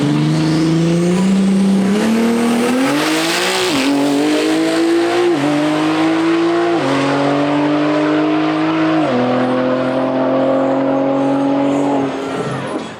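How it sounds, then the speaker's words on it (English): A BMW G80 M3 drag car launches at a European drag race, its engine blaring loud and close with rising, stepping revs through gear changes over about thirteen seconds, harsh and dense throughout. "This G80 M3 always puts on a show when he lined up. It sounded nuts."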